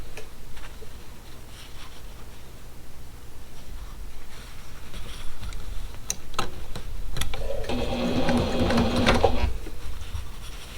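A sewing machine runs steadily as it stitches a quilt block, a fast even mechanical ticking that swells into a louder, denser whir near the end, heard alone without voices.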